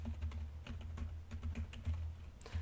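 Steady typing on a computer keyboard while a web page layout is coded, a run of quick, close key clicks with no voices.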